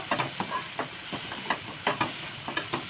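Chopped ginger and garlic frying in a pan, giving a steady hiss with short crackly bursts of sizzle close by, heard without any talk.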